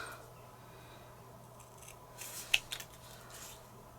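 Scissors cut paper from a winter-themed paper pad for card making. There are a few soft, close snips in quick succession over a quiet room hum.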